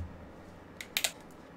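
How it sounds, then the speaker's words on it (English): A small cutting tool snips through an iPhone display cable, giving two or three quick faint clicks close up over a quiet room hiss. "So, we will proceed with the cut along this line here. This cable right here. We will cut this out."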